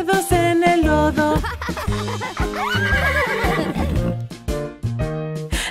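A horse whinnies with a wavering, rising cry in the middle of a cheerful children's farm song about brushing horses, heard over loud, steady music with no talking.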